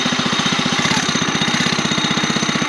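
A Baja Doodlebug mini bike's small engine runs just after starting, with a steady, rapid, close-up chugging putter and no talking over it.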